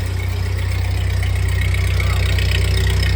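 A 1948 Ford 8N tractor engine running with the PTO engaged: a loud, steady low rumbling idle with an even throb, heard close and continuous, with faint talk underneath.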